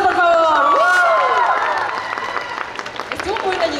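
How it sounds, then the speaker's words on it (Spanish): Audience applause and cheering at a dance cover contest awards ceremony at an anime festival in Mexico City, a loud crowd of clapping and whoops with shouting voices over it, fading a little toward the end. "¡Esos aplausos, por favor!"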